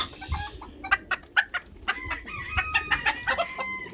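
Malaysian serama hens and other chicken breeds clucking close by, a quick series of sharp, irregular clucks and short calls, busy and uneven.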